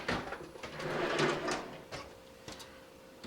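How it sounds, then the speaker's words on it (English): A drawer on a model railroad layout during an operating session, sliding and bumping shut with a rolling rasp and a few sharp knocks, fairly close, no talk. "That drawer can get closed."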